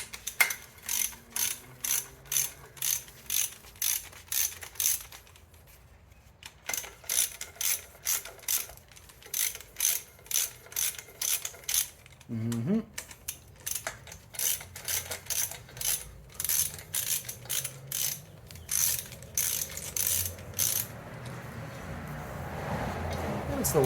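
A hand ratchet loosens exhaust manifold bolts on an Oldsmobile 403 6.6-litre V8. Its rapid clicking comes in steady repeated bursts, close and loud, with a short pause and a single dull clunk partway through.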